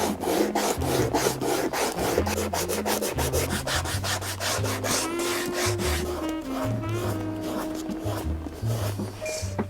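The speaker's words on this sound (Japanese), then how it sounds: "じゃあ次は紙やすりをかけていきます。" Rhythmic back-and-forth scraping of sandpaper against the sole of a Tricker's leather shoe, close and steady, with quick strokes repeating throughout.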